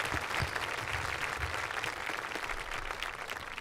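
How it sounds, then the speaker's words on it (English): Audience applause at a senior awards ceremony: dense, steady clapping from many hands, sustained at an even moderate level for several seconds with no talking. "Let's give them a round of applause."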